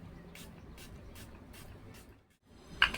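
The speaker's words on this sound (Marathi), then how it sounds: "तर ठीक आहे, आधी स्प्रे करून घेऊयात." Makeup setting spray misted from a bottle in a series of short, soft hissing bursts at an even rhythm, followed by a brief pause and a small clicking sound.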